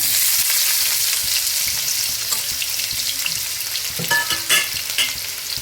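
Finely chopped onions fry with cumin seeds in a hot pan, a loud continuous sizzle and crackle, with the scrape of stirring and a few sharper spatters near the end.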